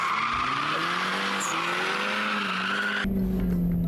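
A toy car drives along a forest road, its motor whining steadily at a constant loud level, then abruptly shifting pitch near the end with no speech over it.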